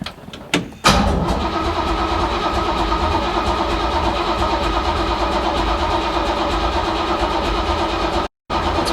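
An abandoned Chevrolet C10 pickup, parked for ten years, has its engine cranked over by the starter. After a couple of brief bursts, a loud, steady, close-up mechanical churn runs nearly the whole time, cut by one short silence near the end.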